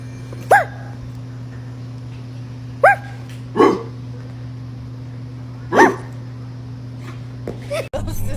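A dog barks in reaction to being barked at, giving four separate short barks and yips spaced a few seconds apart over a steady low hum, fairly close and clear.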